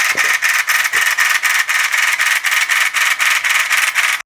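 Oclean W10 Lite portable water flosser pumping a fast water jet, a loud rapid pulsing buzz with an even rhythmic chop, running continuously and close up before cutting off at the end.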